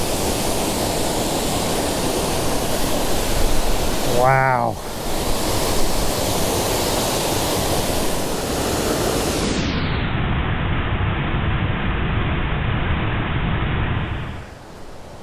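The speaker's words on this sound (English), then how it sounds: "Bunch of waterfalls all close by up here in Rangeley" Waterfall near Rangeley roars as a loud, steady broadband rush of falling water and spray, close to the listener, with one brief spoken exclamation partway through before the sound muffles and fades at the end.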